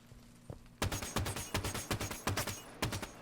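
Rapid gunfire in Halo 5 shooting at a grenade: a sudden burst of loud, evenly spaced shots, about a dozen in quick rhythm, after a brief quiet lead-in.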